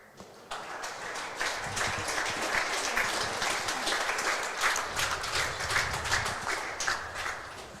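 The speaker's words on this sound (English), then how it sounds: "Round of applause." Spectators applaud at a women's national singles semi-final of lawn bowls, steady sustained clapping that runs for several seconds and stays fairly close and even throughout, with no speech.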